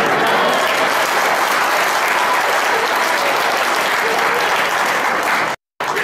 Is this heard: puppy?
no